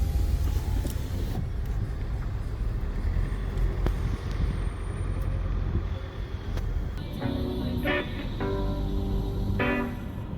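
Car driving along the Jadranska Magistrala, a winding coastal road in Croatia, recorded from inside: a continuous engine and road rumble with some brief clatter and squeals near the end, no talk.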